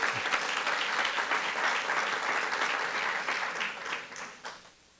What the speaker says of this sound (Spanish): Denle un aplauso a mi esposa